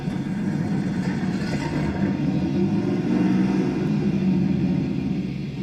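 A Robinson R44 helicopter engine starts up in MSFS2020, a steady, loud low rumble that holds evenly throughout with a faint higher whine above it.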